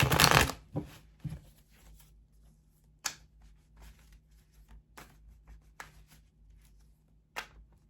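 Tarot cards shuffled by hand during a reading, opening with a quick riffle then soft scattered card slides and taps, close and quiet with pauses between movements.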